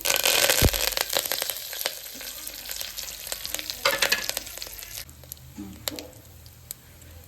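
Cumin, fennel seeds, dried red chilies and curry leaves crackle and sizzle in hot oil with sharp pops and spatters, loud at first and gradually settling to a softer hiss.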